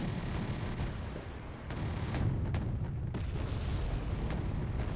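Mortar fire in Wargame: Red Dragon rumbles as a continuous wash of low, distant booms and explosions, with several sharper thuds scattered throughout and no voices over it.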